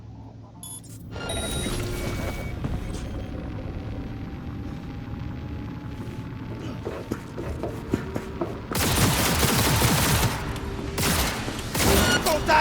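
In Cyberpunk 2077, a battle at Arasaka brings dense bursts of gunfire and booming blasts over a constant rumbling bed of game noise. The loudest volleys come late in the clip, and a brief voice shouts once.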